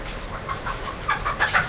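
Soft, irregular clucking from a few chickens, fairly close, with short chirpy bursts over a steady low background hum.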